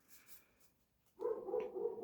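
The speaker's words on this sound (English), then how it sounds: "my dog is barking" A dog left alone upstairs indoors lets out a loud, sustained bark after a quiet stretch, sounding fairly close and clear with no talking over it.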